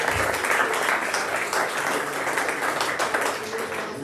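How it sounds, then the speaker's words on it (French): Applause from an audience at a press conference for a Choc des étoiles 2024 kickboxing event, a steady dense wash of clapping filling the whole stretch with a faint murmur underneath. "Allez, on voit les applaudissements s'il vous plaît."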